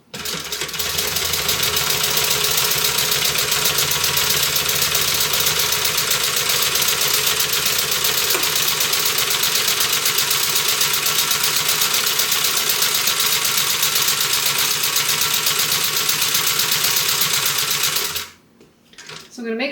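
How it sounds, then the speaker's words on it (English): A sewing machine stitches along the edge of a tote bag, running as a loud, fast, steady mechanical whir for about eighteen seconds before it stops suddenly, with a brief faint sound after. "Okay, we're going to sew up the other edge."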